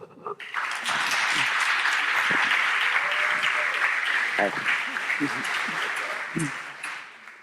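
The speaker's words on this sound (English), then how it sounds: "So let's welcome her with a big applause." A lecture audience gives sustained applause for an orientation-week speaker, a dense wash of clapping that swells quickly and holds for several seconds, with scattered voices and a few shouts mixed in as it tapers.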